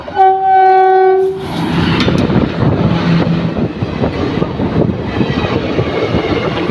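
A train sounds a loud steady horn blast for just over a second, then rushes past close by with a continuous rumbling roar and clatter of wagons, with some wind buffeting.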